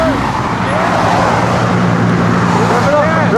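A car engine roaring loudly at the Monterey car weekend, a sustained near growl amid crowd and traffic noise, with people talking nearby.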